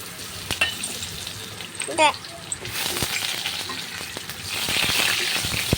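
Fenugreek seeds and curry leaves fry in hot oil for a fish curry, giving a steady crackling sizzle with occasional sharp pops and a brief clink of a utensil midway. No one speaks.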